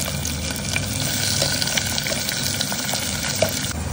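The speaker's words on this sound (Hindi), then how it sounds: "फिर अदरक लहसुन जो हमने चॉप करके रखा है, और फिर डाल देंगे अनियन एंड टमाटो।" Onion and tomato fry in a hot pan with ginger, garlic, curry leaves and whole spices, giving a steady, loud, close sizzle that runs unbroken without speech.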